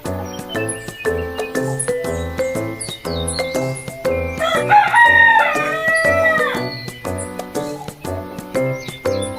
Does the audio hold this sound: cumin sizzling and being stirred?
no